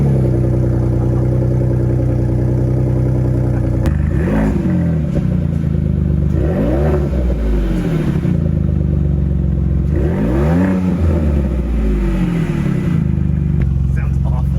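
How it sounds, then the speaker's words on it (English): A 2021 Ford F150 EcoBoost pickup with a straight-pipe exhaust rumbles loudly at idle, then roars through several sharp revs with rising and falling pitch, close up, under occasional talk. "the sound of a straight pipe F150"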